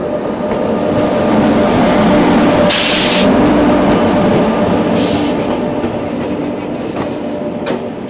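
An Amritsar–Haridwar Jan Shatabdi Express rushes past close by, a loud steady rumble with rail clatter that holds for the whole stretch, broken by bright bursts of hiss.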